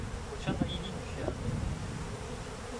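Honey bees at a hive buzzing softly with a few louder passes close by, a steady low drone against faint outdoor background.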